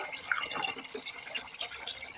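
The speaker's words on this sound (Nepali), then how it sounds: "अब थुक्पा पाक्दै गरी पानी हाल्नु पर्यो नि त" Water poured into a pot of thukpa cooking in a village kitchen in Nepal, a continuous close splashing and trickling stream, with no voices.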